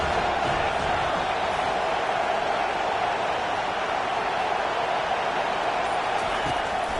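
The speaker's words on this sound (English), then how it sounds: "decibels rising as the crowd gets behind this defense on third down" A packed football stadium crowd roars loudly and continuously on a third-down defensive stand, a dense sustained wall of cheering that fills the whole stretch without letting up.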